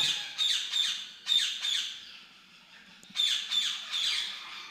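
Exotic parrots, including ringneck, plum-headed and moustached parakeets, give harsh repeated squawks in close bursts of two or three, with brief pauses between volleys and no speech.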